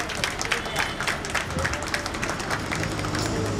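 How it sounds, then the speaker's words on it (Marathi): Applause from an audience at a Mangalagaur gathering held by a Ganesh festival group: dense, steady clapping that runs close and fairly loud through the whole stretch. "जोरदार टाळ्या"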